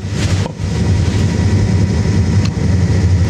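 A Black Series Fantastic Vent roof fan on an HQ-series camper trailer runs steadily, pulling air in with a constant low hum and whoosh that holds at an even level throughout.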